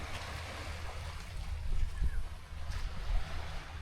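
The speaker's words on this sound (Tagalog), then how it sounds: "At syempre, tapat siya ng dagat." Sea waves wash in front of a beach resort in Calatagan, Batangas, a soft continuous surf hiss with gentle swells and some wind, fairly faint.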